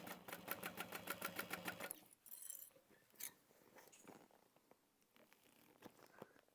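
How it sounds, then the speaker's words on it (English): Sewing machine stitching fabric for a tote bag, a quiet close rapid mechanical chatter of the needle for about two seconds, then stopping, followed by faint rustling and handling of the cloth. "And then I'm sewing down."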